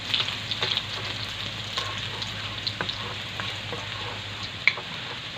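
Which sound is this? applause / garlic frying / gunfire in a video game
garlic frying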